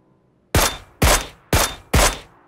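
Four loud rifle shots in PUBG, evenly spaced about half a second apart, each a sharp crack with a short decaying tail, heard alone with no talk.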